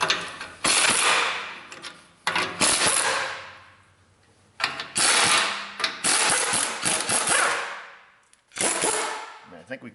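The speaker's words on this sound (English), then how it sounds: "we'll undo the factory clamps" Ratchet clicking in quick bursts while undoing the factory exhaust clamps on a Camaro SS, loud and close, with metallic clanks and pauses between runs.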